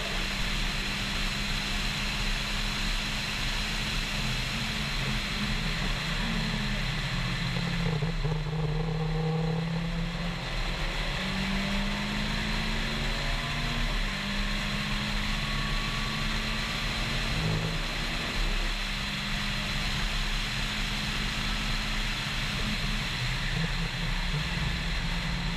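Mitsubishi Lancer Evolution track car engine holding a steady mid-range drone with rising and falling revs, loud and continuous throughout, with no voices.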